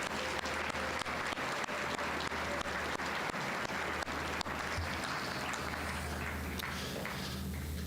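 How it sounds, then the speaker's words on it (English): A student body at a Veterans Day school assembly applauds in a large hall, a dense steady clapping that stays loud throughout before slowly thinning near the end. "So student body, give yourselves a round of applause."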